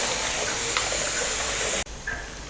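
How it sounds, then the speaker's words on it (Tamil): Chettinad egg drop curry boils in a pot, giving a close, steady bubbling hiss that cuts off abruptly near the end, leaving faint quiet kitchen sounds. "ஸோ இப்போ பார்த்தீங்கன்னா குழம்பு நல்லா கொதிக்க ஆரம்பிச்சிருச்சு."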